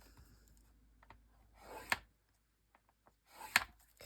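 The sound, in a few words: scoring paper for a Christmas album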